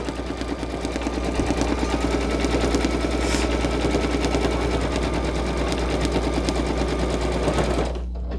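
An embroidery machine stitching a tack-down stitch on a hooded towel, a fast, even mechanical rattle that runs loud and continuous before stopping abruptly near the end.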